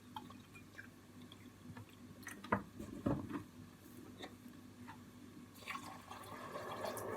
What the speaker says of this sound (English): I'm gonna put 4 glasses of water in it.